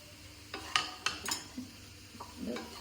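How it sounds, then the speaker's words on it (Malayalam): Shredded boneless chicken being stir-fried in a pan, with a handful of sharp spatula scrapes and metal clinks against the pan over a faint sizzle, fairly close and moderately quiet, no talking. "ഇനി നല്ലോണം വഴറ്റിയെടുക്കട്ടോ."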